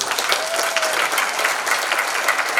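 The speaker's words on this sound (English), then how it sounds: "join me in a round of applause for Steve and all the volunteers" Conference audience at a software event applauding the volunteers: dense, steady clapping from a crowd filling the whole stretch at even loudness, with no talk over it.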